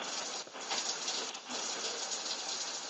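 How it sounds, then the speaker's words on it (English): Heavy rain pouring down during severe spring weather, a steady dense hiss of rainfall on surfaces, fairly faint and unbroken apart from two brief dips. "Oh wow, it's raining heavily."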